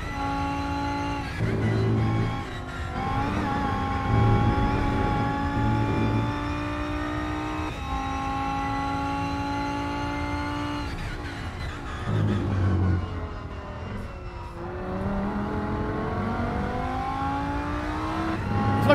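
Race car engine in the video game Rennsport on the Hockenheim circuit, a steady loud tonal drone that rises and falls through gear changes, with no talk over it.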